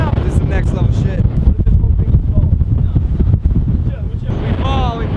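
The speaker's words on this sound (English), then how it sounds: "the wind up here is like what? 50 miles an hour? It's at least 90 miles an hour!" Strong mountain-top wind in Hawaii buffets the microphone with a steady loud roar, while excited voices shout and talk over it throughout.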